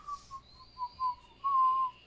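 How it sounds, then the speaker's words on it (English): Person whistling a short tune, a few separate thin notes followed by a longer held tone, close and fairly quiet in a still room. "I was whistling"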